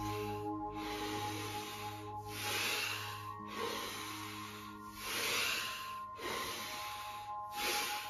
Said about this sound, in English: 5 more breaths.